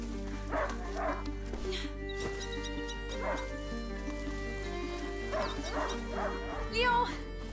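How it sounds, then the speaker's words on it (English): A hunting dog in the video game A Plague Tale: Innocence yips, whimpers and barks in short bursts over a steady tonal music bed, fairly close and clear throughout. "A hunting dog is not supposed to lose its hunter."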